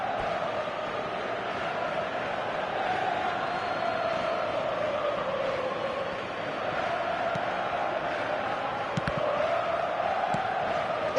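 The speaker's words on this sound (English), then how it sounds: "the crowd level has gone up a notch or 10." A packed football stadium crowd roars steadily after a Milan goal against Inter, a dense, sustained wall of cheering and whooping with no break.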